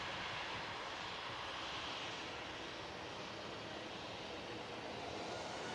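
A KLM airliner on the ground at Manchester Airport, engine noise holding as a steady, moderate drone and heard alone at a distance.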